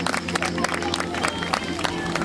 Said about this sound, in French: On l'applaudit en passant, s'il vous plaît